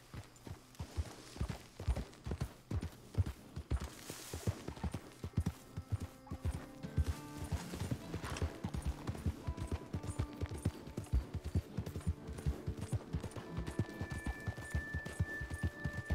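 Horse hooves clip-clop in a steady trotting rhythm in a Western video game, close and clear throughout, with occasional light game sounds and tones layered over the gait.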